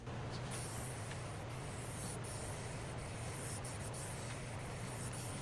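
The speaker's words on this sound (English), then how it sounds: "I'm going to just use some alcohol to clean off the surface of the sanding dust" Steady cloth rubbing over a wood buffet top, wiping it down with alcohol to lift sanding dust; a continuous, even scrubbing hiss that holds at a constant close level throughout with no voices.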